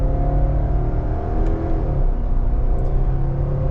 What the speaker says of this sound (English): The CVT is a bit clunky, shifting on the upshift. Let's try the downshift.